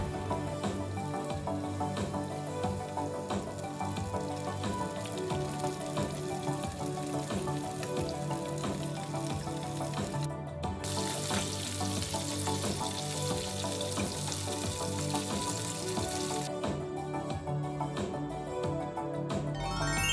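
Battered shrimp deep-frying in hot oil, a dense, continuous crackling sizzle that holds steady and loud for the whole stretch, with no talking.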